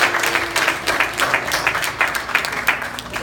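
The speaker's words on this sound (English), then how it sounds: "Let's give them a round of applause" Audience applause at an award ceremony: a dense, steady patter of many hands clapping close by for the full stretch, with no clear talk over it.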